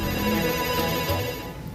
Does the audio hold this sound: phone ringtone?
yes